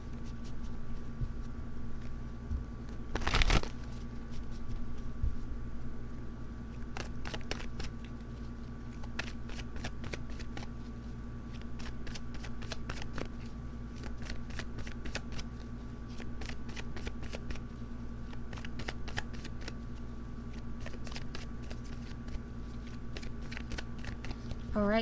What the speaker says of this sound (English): I just really wanted a good shuffle right there before we start